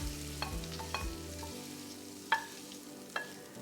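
Shrimp pre-cooking in a pot for a shrimp, crab and corn bisque, a low sizzle with several distinct clanks and scrapes of a utensil against the pot, close and intermittent.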